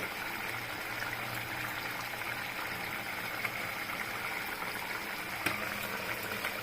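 Red lentil curry with dhoka cakes and peas bubbling steadily in a pot, a continuous soft boiling hiss with faint pops, alone and fairly close.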